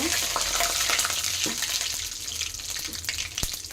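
Mustard seeds and urad dal fry in hot oil with a steady crackling sizzle, a few sharp pops and the scrape of stirring, close and continuous throughout.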